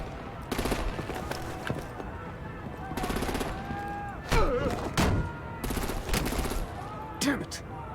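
Repeated bursts of rapid gunfire and heavy impacts in a Batman: Telltale action scene, several loud volleys spaced out with game dialogue and effects between them.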